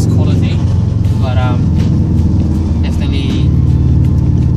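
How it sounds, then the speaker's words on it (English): Deep, constant engine rumble from a 1997 Subaru WRX STI Impreza driven in the rain, heard from inside the car, steady and loud with someone talking over it. "definitely listen to the Subaru rumble"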